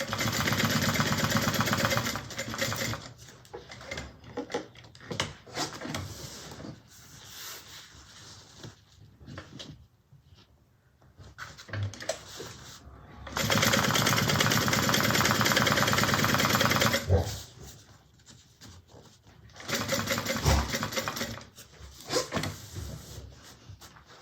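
A sewing machine back stitches a Mabella bag in several separate runs: bursts of motor whir and needle chatter, some long and some short, broken by quieter pauses, close by and with no voices.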